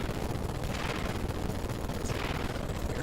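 Steady barrage of gunfire and missile launches from the Ratchet and Clank PS2 game, firing at small enemy ships, forming a dense continuous roar of blasts and shots without pauses.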